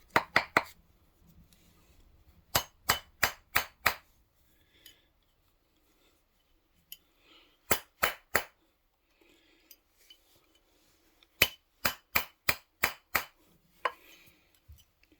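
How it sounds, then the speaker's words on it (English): A plastic mallet taps a twisted square copper wire cuff bracelet around a mandrel, in quick bursts of four or five sharp knocks separated by pauses, close and clear, with no talking. "Plastic mallet, Harbor Freight, high dollar tools."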